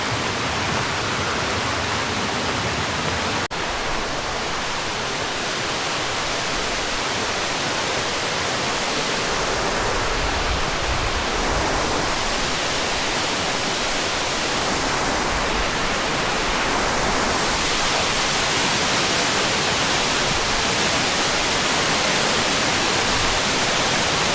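Waterfall on a hiking trail, a steady close roar of falling water that fills the whole clip with broadband rushing noise, continuous and loud with no voices.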